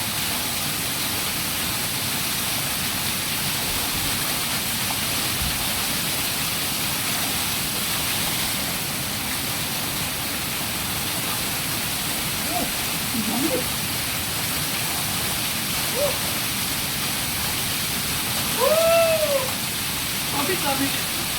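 A waterfall at a tourist spot in Majayjay, Laguna, gives a steady, loud, broad rushing roar through the whole stretch, with a few faint brief calls or voices surfacing near the end.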